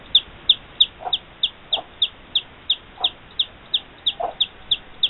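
Newly hatched chicks cheep in rapid, regular high peeps, close by and clear. A few softer lower chirps are scattered among them.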